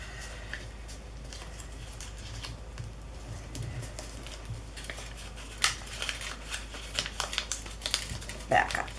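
Paper folded by hand while making an envelope from a square gel print, giving soft crinkles and a few crisp creasing taps close up over a faint steady hiss.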